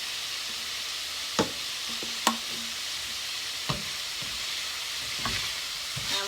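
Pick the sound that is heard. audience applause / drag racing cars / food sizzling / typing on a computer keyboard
food sizzling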